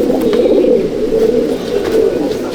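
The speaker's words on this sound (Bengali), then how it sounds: "দেখুন পায়রা" Andhra pigeons cooing throughout a loft at Halisahar, a thick, unbroken wash of low throaty coos from many birds, close and loud, with faint rustling.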